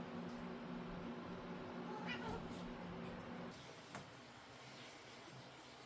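Domestic cats meow at close range in a home kitchen as they wait for a fish head and tail, a few short cries rising over steady background noise.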